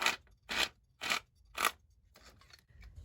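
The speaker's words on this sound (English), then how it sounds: "So I have one of those little things that you turn to make your own corrugated paper." A hand-cranked paper crimper pressing paper into corrugated sheets gives four crisp, evenly spaced crunching clicks as the handle turns, followed by softer scattered rustling and scraping.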